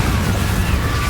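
A Confringo fire spell blast in the Hogwarts Legacy video game: a brief, dense, loud roaring burst of crackling noise, heard up close and filling the whole moment.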